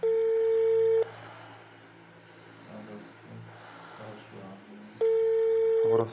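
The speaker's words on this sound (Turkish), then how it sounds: "Men orasi topib ekan, hokimiyat ishchilariga telefon qilyapman." An outgoing telephone call rings unanswered: two long ringback tones, each about a second long and several seconds apart, sound clearly over a quiet line.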